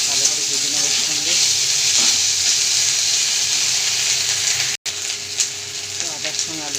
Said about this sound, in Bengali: আদা পেস্ট দিয়ে দিলাম খানিকটা, মশলাটাকে আদাটাকে ভালো করে ভেজে নেব এর সঙ্গে।